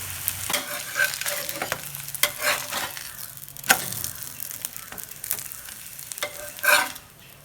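Close, steady sizzling of a ragi flatbread (adai) frying on a hot pan, with soft scraping and stirring taps breaking in now and then; no voices.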